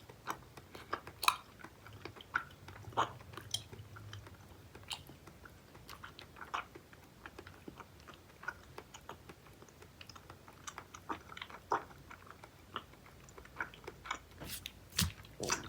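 Marukawa melon bubble gum candy from Japan chewed up close, a soft, gooey wad making wet smacks, squishes and small clicks in an irregular rhythm, with no talking.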